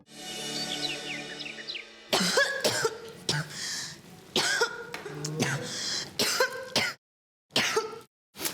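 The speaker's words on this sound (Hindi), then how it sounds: "अरे बंद करे खांसी की आवाज" Repeated harsh coughs and throat clearing in short bursts, fairly close, after a brief stretch of birdsong-like chirps at the start.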